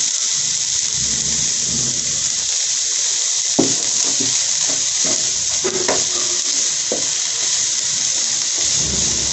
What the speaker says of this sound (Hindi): ये अब हम बंद गोभी को इसमें थोड़ा सा सौते कर लेते हैं।